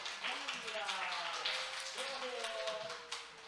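Children clapping together in a church Sunday school service to bless two kids on their birthdays, a steady stream of quick overlapping claps carrying on through the moment as a voice speaks.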